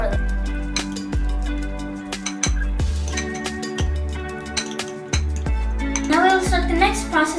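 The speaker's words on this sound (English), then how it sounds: "mix it well. Mix the egg really properly." Eggs beaten in a bowl for a bell pepper ring omelette, a fork or whisk striking the bowl in quick, ringing clinks and rattles, close and continuous.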